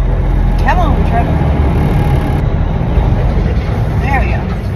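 A semi truck's engine rumbles low and steady while the rig creeps slowly forward, a continuous heavy drone with faint higher chirps over it and no talking.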